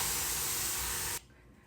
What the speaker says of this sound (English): First, I'm gonna spray some water because my hair has dried up a bit.